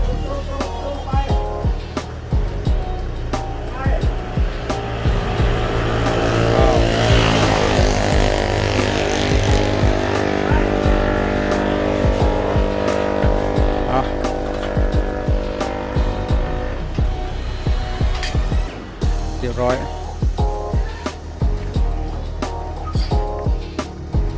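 A small farm tractor's 110 Kawama engine runs loudly and steadily with a buzzing, slightly rising and falling drone, sharp clicks and knocks scattered throughout.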